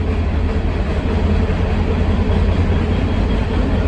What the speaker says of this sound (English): This train is going for forever.